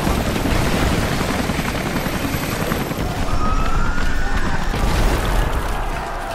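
Helicopters arriving in Rise of the Tomb Raider, a dense, steady rotor roar that fills the whole stretch at a loud, even level with no talk over it.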